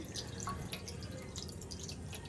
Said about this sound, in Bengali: দেখো এবারে গোপালের স্নান হচ্ছে।